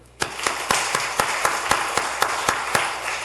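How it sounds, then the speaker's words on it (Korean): A church congregation at Seongdong First Church claps together in a steady, unison rhythm, about a dozen sharp synchronized claps spaced evenly over a few seconds with a light room wash between them. "우리 다 같이 하나님 앞에 영광과 감사의 박수를 한번 할까요?"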